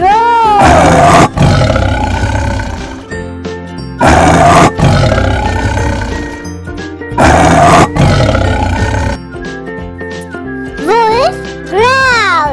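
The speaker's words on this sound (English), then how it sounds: "roar." A tiger gives three loud, rumbling roars at regular intervals, each a few seconds apart, set against light musical chimes that rise briefly at the end.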